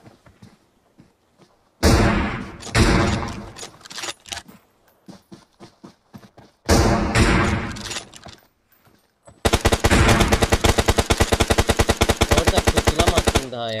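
Rapid automatic gunfire and single shots from a battle royale video game, loud bursts separated by gaps, ending in a long sustained stream of fast repeating shots.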